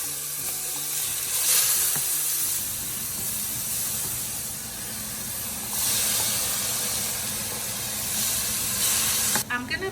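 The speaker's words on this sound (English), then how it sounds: "I'm gonna start sauteing the onion and the garlic" Onion and garlic sautéing in hot oil for a Mexican meatball soup, giving a steady, loud sizzle and hiss that runs throughout with slight swells and a few stirring clatters near the end.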